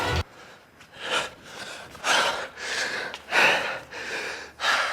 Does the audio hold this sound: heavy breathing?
yes